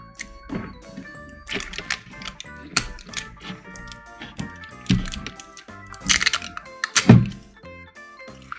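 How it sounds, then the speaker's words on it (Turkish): Plastic green toy ball from a LOL Surprise set being opened, a series of close, sharp plastic clicks, cracks and thunks in irregular bursts, louder snaps near the end. "Şimdi bu yeşil topu açalım."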